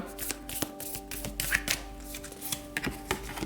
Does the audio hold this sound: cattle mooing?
no